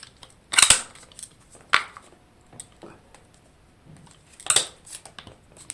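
A GoPro camera mount is pulled, pushed and unlocked: a few sharp plastic clicks and snaps, close and fairly loud, with quieter handling rustle in between.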